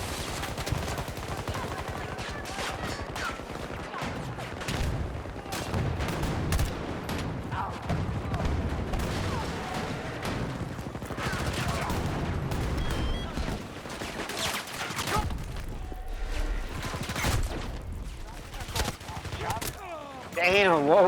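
Video game firefight with grenade blasts and dense bursts of gunfire, loud and continuous, with rapid automatic fire and booms layered throughout.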